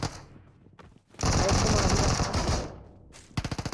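Gunfire in PUBG Mobile: a dense, loud automatic burst lasting over a second, then a shorter rapid volley of evenly spaced shots, with a voice talking over the action.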